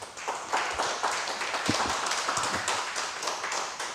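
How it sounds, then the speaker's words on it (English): An audience at a law seminar applauds at the close of a lecture, a dense, continuous patter of many hands clapping at moderate volume throughout. "I'll make sure we'll send the clapping sound to him abroad"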